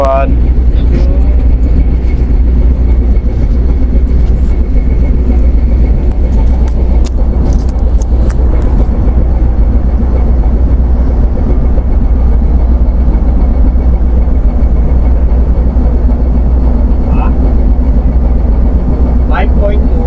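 Ship engine running, a loud, heavy, steady low rumble with constant mechanical vibration lasting the whole time and no break in its level.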